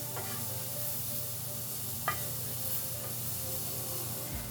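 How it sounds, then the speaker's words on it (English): Green onions cook in a pan with a soft, steady sizzle and hiss, a few faint clicks and one brief crackle, heard quietly with no talking. "And then we're gonna add in our green onions. And let that cook for a minute."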